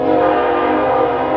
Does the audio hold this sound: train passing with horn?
yes